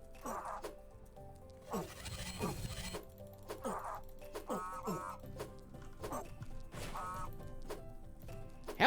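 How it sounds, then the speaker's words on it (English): A goose enemy in a survival video game honks repeatedly in loud, harsh bursts, with scuffling and zipper-like rustles between the calls. "How is it that the goose has so much damage?"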